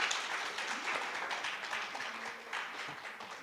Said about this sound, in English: Please clap louder.